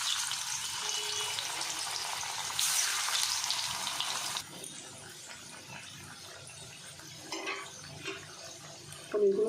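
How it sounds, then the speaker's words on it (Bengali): Paneer pieces fry in turmeric-tinted oil in a kadai, giving a steady sizzling hiss. The hiss is loud at first, then eases to a quieter crackle with a few light clinks, and no one speaks. "ভেজে নেব পনিরগুলো।"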